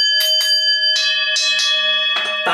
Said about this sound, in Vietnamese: để kết thúc chương trình tôi gõ chuông